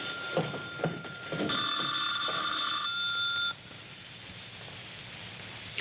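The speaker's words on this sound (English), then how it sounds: "Answer the phone." A telephone rings in an old radio drama, with several bright electric ring bursts that stop after a few seconds and leave quiet room tone.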